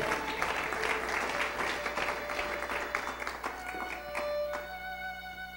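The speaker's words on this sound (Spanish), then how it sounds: "Dele un aplauso al Señor con todo su corazón" A church congregation claps together in sustained applause, dense and lively at first, thinning slightly toward the end, with a few scattered voices mixed in.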